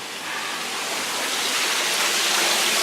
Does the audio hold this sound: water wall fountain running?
yes